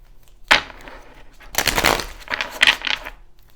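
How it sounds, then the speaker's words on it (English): Tarot cards are shuffled in a few soft, close riffling bursts with brief crisp snaps, fairly quiet with pauses between. "All right, one more shuffle."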